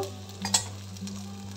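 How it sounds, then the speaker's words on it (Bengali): Ginger and green chilli being stirred in hot oil for a soybean omelette curry, a quiet sizzle with a couple of brief scraping stirs over a steady low hum, close by with no talk. "কয়েক সেকেন্ড একটু নেড়ে নিতে হবে আদা আর কাঁচা লঙ্কাটা চলে যাওয়া পর্যন্ত"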